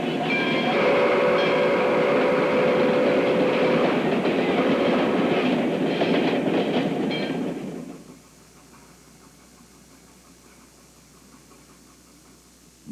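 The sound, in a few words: Baldwin steam locomotive train running, Bonhomie & Hattiesburg Southern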